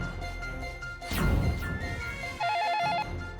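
Telephone ringing on a call to a school: after some rustling and a whoosh, a short burst of warbling electronic ring sounds clearly near the end.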